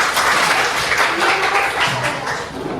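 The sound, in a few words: class giving themselves a round of applause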